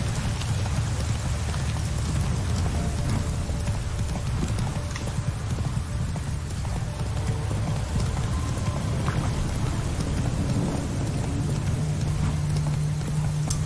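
Geralt's horse Roach from The Witcher 3 gallops in a steady, rhythmic clip-clop of hooves, continuous and fairly close, over a dense rushing background like rain or wind.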